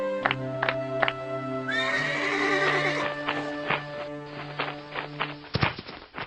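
Kuda Sembrani, a flying horse in an animated story, lets out a loud, drawn-out whinny, and hoofbeats then clop along near and clear with no voices.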